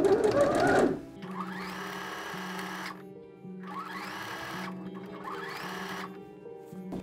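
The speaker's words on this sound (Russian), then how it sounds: "нам необходимо будет проложить строчку насквозь, но при этом отогнуть воротник" A sewing machine stitches through the collar of a child's dress in three bursts of steady whirring with short gaps between them, after a brief rustle of handling at the start.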